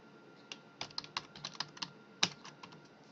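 Keystrokes on a computer keyboard as a database username and password are typed, a quiet, close burst of quick uneven taps with one sharper key press near the end.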